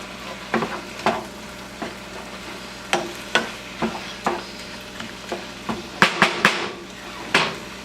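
A spoon stirs jalapeno peppers into browning meat in a pot, irregular scraping knocks against the metal over a soft sizzle, close and without talk.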